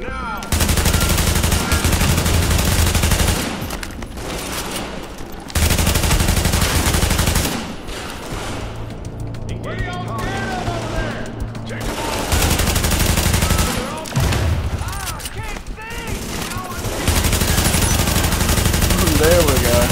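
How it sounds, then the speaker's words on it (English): Sustained automatic gunfire erupts in a firefight in the video game The Division, loud dense bursts of rapid shots with short lulls between them, and voices speak briefly among the volleys. "Open fire. Now."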